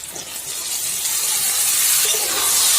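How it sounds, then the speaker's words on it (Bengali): Soaked red lentils go into hot oil and fried spices in a pan, giving a loud, steady hissing sizzle that builds slightly and runs continuously with no voices. "এবারে আমি ওই ভিজিয়ে রাখা মুসুর ডালটা দিয়ে দিচ্ছি"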